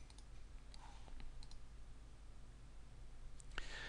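Sparse mouse clicks at a computer desk, a few faint isolated clicks spread across a quiet background with low room hum.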